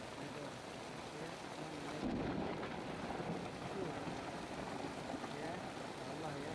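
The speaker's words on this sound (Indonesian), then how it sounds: "Ini lumayan deras hujannya ya." Heavy rain pours over a flooded village road in Jatikramat, Bekasi, a dense, steady hiss of downpour. Around the middle a low rumble of thunder swells, and it holds at a moderate level throughout.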